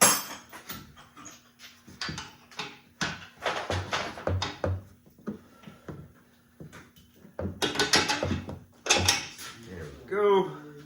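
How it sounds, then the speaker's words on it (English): Hammer taps on a bolt while fitting an upper control arm on a Dodge Ram, a series of short sharp metallic knocks in bursts, close by, mixed with other workshop clatter. "To get our first bolt started, might have to tap it with a hammer here"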